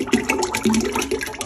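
About a gallon and a half of chicken broth pours into a big stock pot, a short gushing, splashing stream of liquid heard up close.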